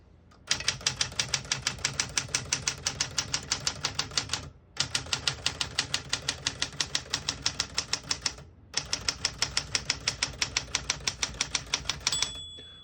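Rapid, even keystrokes clack on a 1967 Smith-Corona Super Sterling portable manual typewriter in three bursts separated by short pauses, close and crisp.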